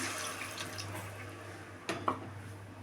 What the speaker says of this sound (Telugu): ఒక కప్పు చింతపండు నీళ్ళు పోసుకుంటున్నాం